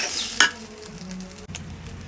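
Boiling water is poured into a pot of cooking soya chunk biryani. A short splash and hiss of sizzling is followed by quiet stirring and bubbling close by.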